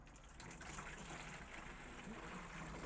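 Half a litre of liquid slug-control treatment poured from one container into another in a greenhouse, a steady close splashing gush that runs continuously without talk.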